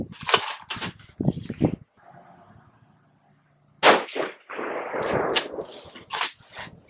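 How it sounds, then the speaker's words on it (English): A 6mm ARC rifle firing 108-grain ELD-M rounds loaded with Reloader 15, with an Athlon 6-24 scope fitted: a loud, sharp report near the end of the clip, ringing off briefly, with short bursts of other noise and handling sounds before it. "we're going to go ahead and start shooting the 108 ELD and Reloader 15"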